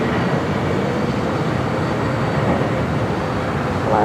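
Airliner taking off at LAX, a steady, broad, loud jet roar that stays constant throughout, with faint talk in the background.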